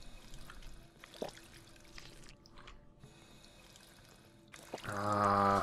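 Water running from a vault drinking fountain in the Fallout 4 game, a soft steady trickle under ambient hum that swells louder near the end.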